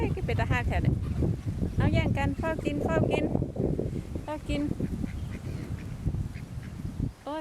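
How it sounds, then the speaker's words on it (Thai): Mallard ducks quack at a lake where people are feeding birds, the quacks repeated and overlapping amid a busy cluster of bird calls, with a person talking nearby. "เป็ดหัวเขียวมันก็มา"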